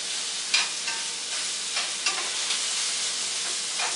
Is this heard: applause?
no